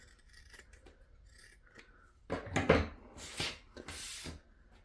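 Scissors cutting through several layered pieces of fabric, faint handling rustles first, then a few loud close crunching snips in a cluster, separated by short gaps.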